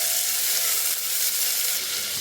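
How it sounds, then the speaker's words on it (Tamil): Onions sautéing in a hot pan for a Tamil mushroom biryani, a steady, close, loud sizzle and crackle of frying that holds without a break throughout. "வெங்காயம் பொன்னிறம் ஆகிற வரைய நல்லா வதக்கிக்கணும்"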